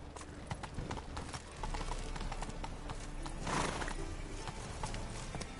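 A horse gallops in The Witcher video game with rapid, rhythmic hoofbeats that stay close and fairly loud throughout.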